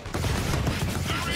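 Enemy gunfire aimed at the player in inFAMOUS Second Son, a brief, dense rattle of rapid shots, loud and continuous with no pause.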